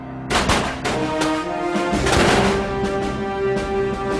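Musket volleys fired by ranks of troops in battle, a series of sharp cracks and booming reports with a rough, echoing tail, some shots overlapping, loud and close.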